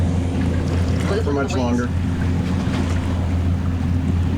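A boat runs across open sea near Bahamian islands, with a constant roar of engine, wind and water and the hull pounding through waves, while people talk briefly over it.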